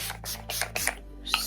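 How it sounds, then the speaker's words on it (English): Several short bursts of Too Faced All Nighter makeup setting spray, each a soft hissing puff in a quick irregular series with a steady low hum underneath. "Using the Too Faced All Nighter setting spray,"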